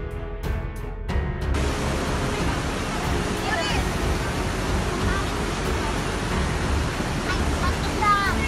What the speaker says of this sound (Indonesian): Intensitas hujan yang tinggi pada Kamis 16 Desember 2021 sore membuat aliran Sungai Cidurian meluap.